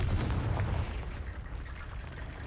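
A Confringo blasting spell explosion in the wizarding game Hogwarts Legacy, a deep booming burst at the start that rumbles and fades into a lingering low roar.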